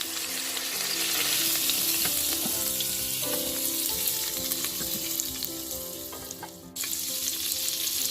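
Browned pork roast with onions and celery sautés in an Instant Pot Ultra, giving a strong, continuous sizzle with occasional stirring clatter and hums. Near the end it drops briefly, then resumes just as loud.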